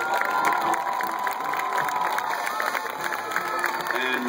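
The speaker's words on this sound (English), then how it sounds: "Audience, please give these students a round of applause." A high school homecoming crowd cheers and applauds for the students, with loud whoops, shouts and clapping filling the space, steady and dense throughout.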